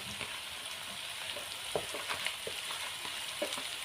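Chopped tomatoes and peppers fry with onion in a pot, a steady close sizzle with occasional soft stirring scrapes and pops, continuous and even with no voices.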